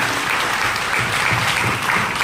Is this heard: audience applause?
yes